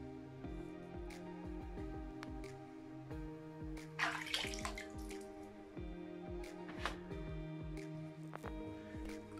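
Water moving gently in a bathtub where toy boats float, with soft drips, small sloshes and a louder splash in the middle, heard close and quiet against a steady background hum.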